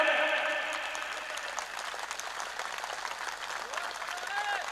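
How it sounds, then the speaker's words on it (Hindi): Applause from a crowd at a public gathering in Bikaner, steady clapping that opens a little louder and continues at a moderate, even level, with faint voices underneath. "आपकी तालियां कम है।"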